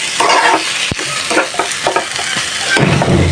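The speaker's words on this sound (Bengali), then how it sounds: "মরিচ আদা পেঁয়াজ সব কিছু একসাথে মিশিয়ে তারপর তেলের মধ্যে ভেজে নিতেছি" A mixture of chili, ginger and onion fries in oil with a loud, continuous sizzle, stirred with repeated scraping strokes close up, and no one talking.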